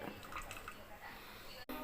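Tamarind water poured into a pot of cabbage kootu: a faint, steady liquid trickle and splash running throughout, quiet and close, ending with a brief click.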